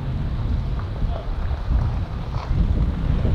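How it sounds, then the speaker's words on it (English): Wind buffets a small speedboat at sea with a steady, loud roar and rumble filling the whole stretch, with no break. "it's a bit windy"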